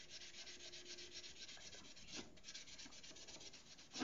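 A damaged drone propeller being sanded by hand, steady rhythmic rubbing strokes that scrape continuously, close and fairly quiet, with no speech.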